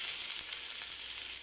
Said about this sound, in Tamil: இப்போ ஆயில் ஹீட் ஆயிடுச்சு. இது கூட வெங்காயம் சேர்த்துக்கறலாம்.